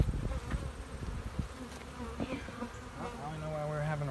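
Honey bees buzz steadily at an open, weak hive being condensed into a nuc, a dense close drone with rising tonal whines near the end.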